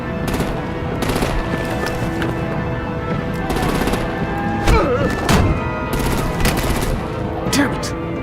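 Artillery and gunfire in Batman: The Enemy Within, sustained rattling automatic fire with heavy booms and thuds mixed in, loud and continuous in a chaotic battle, with voices briefly heard amid the noise.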